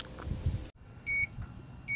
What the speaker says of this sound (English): The beepers and buzzers this thing has is too cool.